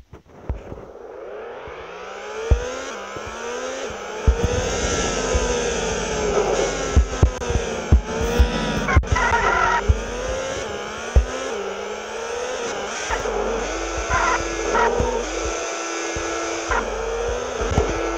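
A car in the Extreme Car Driving Simulator Android game revs loudly, its engine pitch rising and falling through gear changes, with sharp knocks and tire squeal mixed in. The sound runs continuously with no one speaking.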